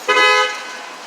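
On a Boston street, a passing car gives a single short, bright horn toot nearby, which then fades into quiet street background.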